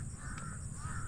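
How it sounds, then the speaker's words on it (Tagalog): Crows caw in a young cornfield, one harsh call rising over steady wind and outdoor rumble, moderately loud and close. "Para nakikipaglaro na rin uwak sa atin ay tampo."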